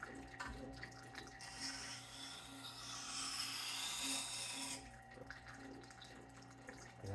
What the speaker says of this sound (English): So you just kind of run your blade across like that.